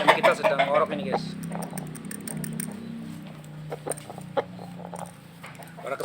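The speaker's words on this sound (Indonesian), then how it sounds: "Ini ayam kita sedang ngorok ini guys." A sick chicken breathes with a rasping, snoring wheeze, faint and close, with soft clucks and small rustles around it. A person talks briefly at the start.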